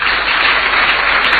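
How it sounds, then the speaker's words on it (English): A large audience at President Mahama's dialogue with organized labour applauds for the labour spokesperson, giving a loud, steady wash of clapping that lasts the whole stretch. "Brother Joshua Ansah, who I believe deserves a round of applause"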